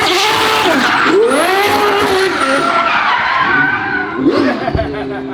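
A twin-turbo V12 Ferrari F12 doing donuts in a burnyard makes loud, sustained tire squeals over a roaring engine, the screech rising and falling in pitch, with a sharp burst near the end.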